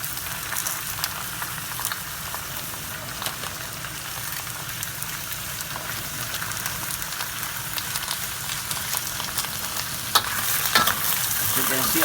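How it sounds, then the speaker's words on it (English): Bok choy sears in a very hot wok, a loud continuous sizzle and frying crackle with occasional stirring scrapes, steady and close throughout. "As you can see, our wok is really hot, because we're not gonna overcook our bok choy. Basically, we're just searing it."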